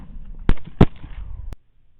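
Two sharp rifle gunshots at hogs on a night thermal hunt, close and loud, about a third of a second apart, followed by a fainter crack and then near silence.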